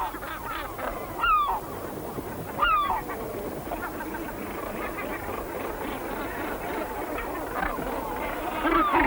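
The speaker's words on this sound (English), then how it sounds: "though they nest in colonies, gannets are instinctively aggressive" Gannet colony on St Kilda, a dense ongoing mass of harsh grating calls with a few louder, nearer squawks standing out above the steady din.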